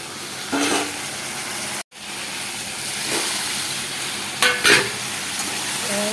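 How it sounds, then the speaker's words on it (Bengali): Potatoes fry with spices and turmeric in a pan, a loud, close, steady sizzle broken by a brief gap, with a few louder spatula stirs and scrapes and no speech. "একটুখানি হলুদ দেবো, আর তার সাথে আলুগুলো দিয়ে ভালো করে কষিয়ে নেব।"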